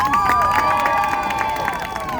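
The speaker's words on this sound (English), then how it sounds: "A round of applause!" A street-show crowd in Times Square, New York, cheers and claps in a steady, dense roar, with sustained whistle-like tones riding above the noise.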